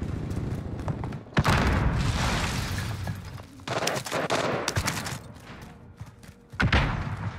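Gunfire in the video game Warzone, loud sharp bursts and rapid automatic volleys with a few heavy thumps, coming in clusters across several seconds with little talk over them.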